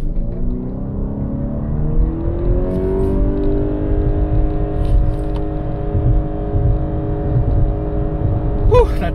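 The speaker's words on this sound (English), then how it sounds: "The engine is going to whine and scream a lot because it gets really high revs." A Honda CR-V Hybrid's engine climbs to high revs during a 0-60 mph acceleration run, a loud, sustained whining drone that holds steady as the pitch rises, with no talking.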